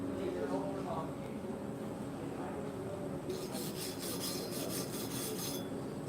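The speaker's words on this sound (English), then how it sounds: "take a nice clean wire brush and brush all of the soot and smoke and little silica beads off of this thing" A wire brush scrubs soot, smoke residue and little silica beads off a weld, making a steady close rasping scrape with a brighter, harsher stretch midway and a low murmur of voices underneath.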